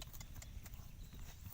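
A horse's hooves clip-clop in a steady, close rhythm on a hillside trail, with no one speaking over them.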